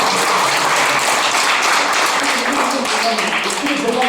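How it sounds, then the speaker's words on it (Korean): An audience claps loudly and continuously throughout, with voices mixed into the dense applause. "박수 한번 치셔야지."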